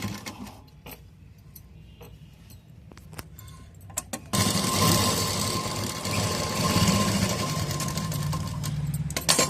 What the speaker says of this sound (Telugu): దీన్ని మళ్ళీ ఒకసారి డబల్ స్టిచ్ వేసుకోవాలి